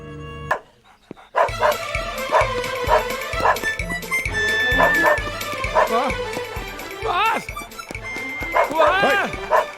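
A dog barks again and again in a dramatic film scene, loud, sharp woofs and yips in a steady run with a few whimpers, heard under background music while people talk over it.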